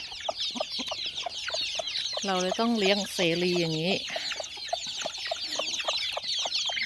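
Native chickens cluck and chatter in the open in a garden, with one hen's drawn-out calls standing out briefly while someone speaks over them.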